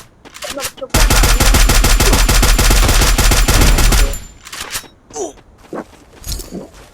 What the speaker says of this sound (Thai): ยิงนิวไล่มันไปหลบจ้